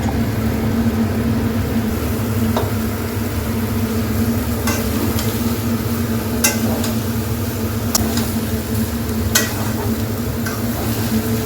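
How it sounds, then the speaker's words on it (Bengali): Chopped beetroot and carrot fry in a pan for a vegetable chop, giving a steady sizzle throughout, with a few sharp scrapes and clicks as the pieces are stirred. No voices are heard. "এবার বিট গাজরটা দিয়ে দেবো।"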